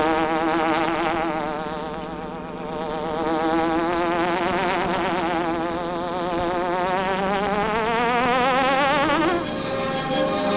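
A hornet buzzing effect from the Green Hornet radio show, a loud, continuous insect drone with a wavering, rising and falling pitch that swells and sweeps upward near the end, heard alone without talk.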